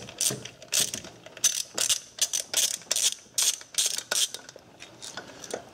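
Ratchet wrench loosening the 10 mm coil pack bolts on a Suzuki Forenza engine during camshaft cover removal, rapid clicking bursts in an uneven rhythm, close and clear with no talk.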